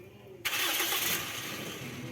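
A Toyota Corolla Altis with a misfire and hard-starting fault cranks and catches abruptly, then runs in a loud, close burst of engine noise that eases slightly toward a rough idle.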